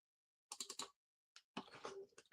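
Quiet clicks from a computer mouse at a desk during an overnight weather briefing come in quick clusters separated by short silences. There is no talking over them.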